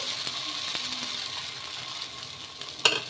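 Wheat rava ponganalu batter cooking in a pan gives a steady, soft sizzling hiss throughout, with a small sharp clink near the end.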